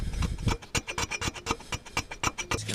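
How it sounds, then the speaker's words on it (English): P800 sandpaper is rubbed quickly back and forth over a hose fitting on a Subaru, making close, rhythmic rasping strokes about four or five per second with no talking. "Just going to take some sandpaper to it."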